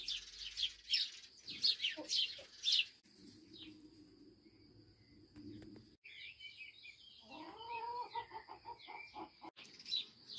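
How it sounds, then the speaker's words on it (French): Birds chirp and sing nearby in quick bursts, then longer warbling calls follow, with a steady low background hum throughout. "Bon, avec les oiseaux, on ne s'entend plus là."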